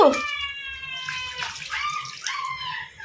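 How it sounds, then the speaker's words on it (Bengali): Overflowing water streams and gurgles down into an open drain nearby, giving a loud, continuous rush with warbling, whistling gurgles throughout. "এইখান থেকে উপচে উপচে সব এত এত জলের স্রোত এসছে এখান থেকে"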